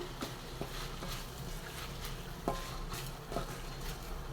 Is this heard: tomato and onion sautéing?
yes